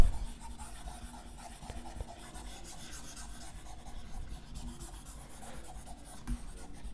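A pen scratches steadily across paper while a graph is drawn for a linear equation in two variables, a continuous close rasping scrape with small strokes and no talk.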